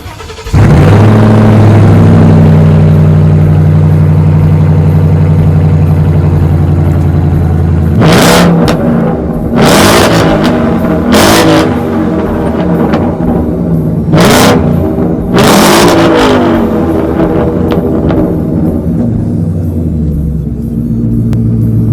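A 700HP supercharged Ford Mustang GT Premium with dual stainless steel exhaust pipes idles with a deep, loud rumble, then gets four sharp, roaring revs that each fall back to a throbbing idle.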